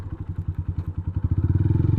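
A motorcycle being kick-started sputters with rapid, pulsing chugs that speed up and steady into a low, throbbing idle, close and loud.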